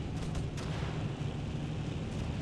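A grenade explodes in Battlefield 1942, a dense, continuous rumbling roar filling the short clip at steady loudness with no clear separate bursts.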